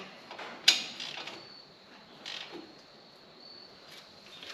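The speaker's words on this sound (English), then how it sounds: "Grab our ratchet here and just snug it down" A ratchet snugs down a bolt during front brake work on a 2016-2021 Hyundai Tucson or Kia Sportage. A sharp metallic click comes first, followed by a few fainter creaking ratchet strokes close by in a quiet space.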